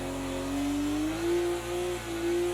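A BMW 1M StanceWorks Edition engine in Project CARS 2 revs hard at Bathurst, its tone climbing in steady pitch steps through the gears, loud and close with no voices over it.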